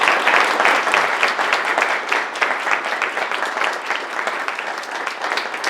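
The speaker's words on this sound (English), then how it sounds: "Give the panelists a round of applause" An audience claps steadily for the panelists at the close of a panel discussion, a sustained, fairly loud round of applause that tapers slightly toward the end, with no talking over it.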